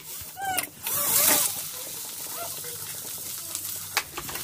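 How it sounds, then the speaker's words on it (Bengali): Onion and cumin fry in a pan with a steady sizzle and stirring scrapes, while a voice or a honk-like vocal sound briefly rises over the frying near the start. "এবারে আমি একটু ভেজে নিচ্ছি"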